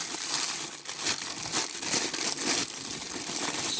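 Continuous crinkling and rustling of paper packaging, loud and close, with busy crackling texture throughout and no pauses.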